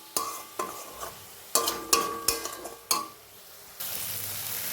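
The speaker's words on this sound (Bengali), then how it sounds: "এবার আমি আরেকটু মশলাটাকে ভালো করে কষিয়ে নেব" A spice paste with cumin powder is stirred in a pan, a spoon scraping and clinking against the metal in several separate strokes, with a soft sizzle rising steadily underneath toward the end.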